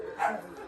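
A single short dog bark or yip, fairly faint, with a soft muffled quality against light background noise.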